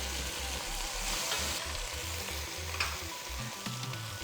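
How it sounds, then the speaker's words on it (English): Onion, ginger and garlic sizzle steadily in a hot pan for fried rice as they are stirred, a dense continuous frying hiss with faint scraping and no voices. "So I'm going to give this a big stir."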